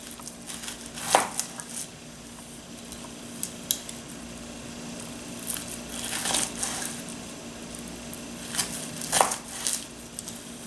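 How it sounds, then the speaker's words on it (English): A knife slices off the end of a sushi roll with a few soft crunching cuts and scrapes against the board, fairly quiet and close. "I'm actually going to cut the end first."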